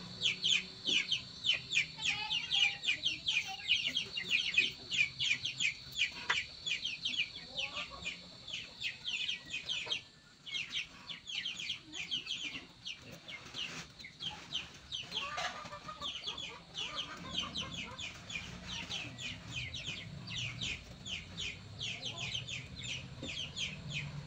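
Chickens cluck repeatedly in short, choppy bursts, close and busy, with occasional rustling and background farmyard noise throughout.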